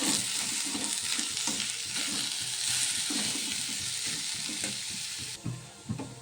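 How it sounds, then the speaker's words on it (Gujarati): Peas and garam masala stirred and frying in a pan give off a steady, dense sizzle, with a spoon scraping rhythmically through the mixture the whole time; no one speaks. "હવે એને સારી રીતે મિક્સ કરી લેવાનું છે।"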